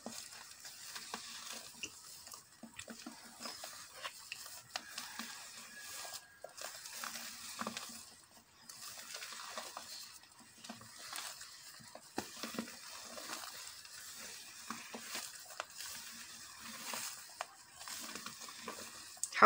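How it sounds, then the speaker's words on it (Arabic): Batter for a rolled sponge cake is folded by hand with whipped egg-white meringue, the spatula moving from bottom to top in soft, steady scraping and stirring strokes that run on continuously and fairly quietly. "ونبدا نخلط في هاد العناصر كلها من التحت للفوق"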